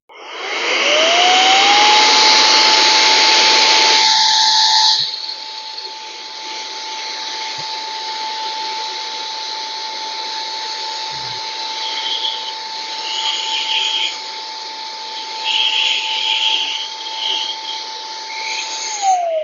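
A handheld air duster blowing dust out of a Trend vacuum cleaner filter in a workshop, a loud steady whine that spins up, roars harder for the first five seconds, then holds a strong even hiss until it winds down.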